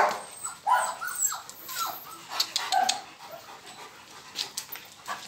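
A Rottweiler mother dog, thin after nursing a large litter, whimpering and panting in short, soft bursts with a few faint yelps, quiet and close, no one talking.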